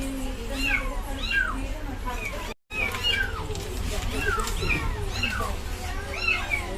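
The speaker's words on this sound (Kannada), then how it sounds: "ಬೆಕ್ಕಿನ ಮರಿ ಇತ್ತು ಇವತ್ತು 2 ಪುಟ್ಟ ಮರಿ" Two small kittens meow repeatedly and insistently, close by, with a steady background hum and a brief dropout midway; a few faint voices sit underneath.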